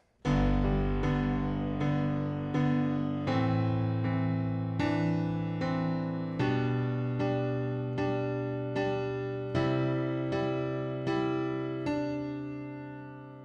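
A piano turnaround from a song opens with a deep bass note, then rhythmic chords strike in an even pulse, each decaying slightly, played alone and close.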